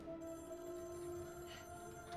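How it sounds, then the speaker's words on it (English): A phone rings in a Loki Season 2 scene, a faint steady electronic tone held low in the mix without pause. "And this phone is ringing as well."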